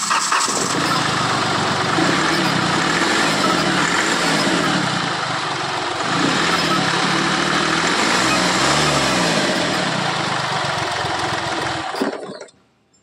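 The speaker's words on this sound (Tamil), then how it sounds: "என்ஜினோட நாய்ஸ் கேட்டிருப்பீங்க." Diesel engine of a 2014 Hyundai Xcent sedan running steadily close by, a continuous rough drone with no talk, cutting off abruptly near the end.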